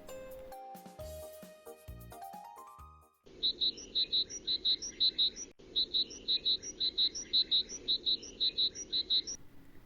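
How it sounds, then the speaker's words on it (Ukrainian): After a brief melodic intro, small birds chirp in repeated quick bursts over a steady low hum, fairly faint and regular. "Пташечки в небі співають пісень"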